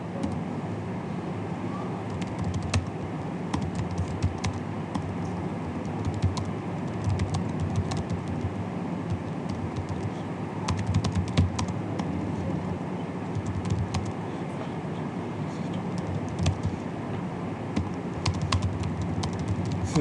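Steady typing on a computer keyboard in MS Word runs throughout, fast, dense keystrokes close to the microphone over a constant background hum, with faint birds and distant traffic outside.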